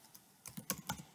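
Keys clatter on a computer keyboard as a web address is typed into a browser, a quick burst of five or six close, crisp clicks with nothing else around them.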